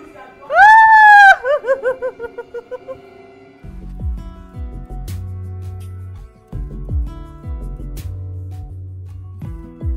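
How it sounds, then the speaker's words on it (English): A woman lets out a loud, high, wavering scream that breaks into choppy, laugh-like bursts, followed by low-pitched, music-like tones. "Stop screaming."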